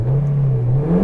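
A 2010 Honda Civic 8th gen with a 1.8 i-VTEC engine revs briefly, a steady close mechanical hum that rises slightly in pitch near the end.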